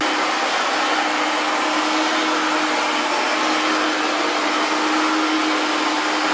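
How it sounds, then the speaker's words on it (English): AIRROBO P10 robot vacuum cleaner running in Max suction mode, a steady loud hissing whine with a faint tonal hum, continuous and close with no talking until it stops. "The most powerful suction mode is Max with 2600 Pascal, and the noise level in this mode is 60 dB."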